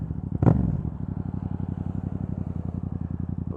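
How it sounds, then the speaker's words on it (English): A motorcycle exhaust burbles at a steady idle with a rapid, even pulsing throb up close, after a brief clunk near the start, with no talking. "this thing does make a beautiful exhaust note"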